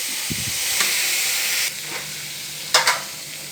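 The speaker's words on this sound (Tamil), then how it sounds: "வெங்காயம் வதங்குது." Onions sautéing in a pan for a drumstick gravy give a steady close sizzle, with a brief scrape and a couple of sharper stirring clinks near the end. No one speaks.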